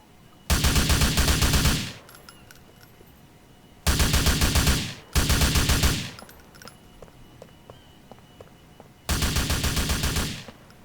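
Rapid automatic M4 rifle fire at a police training range in GTA IV: four loud, close bursts of about one to two seconds each, separated by quiet pauses with faint background clicks.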